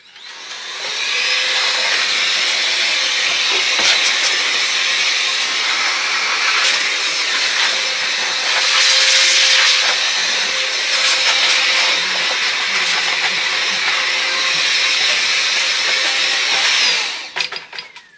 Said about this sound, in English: So I'm gonna blow it out real quickly using this old Polar air duster.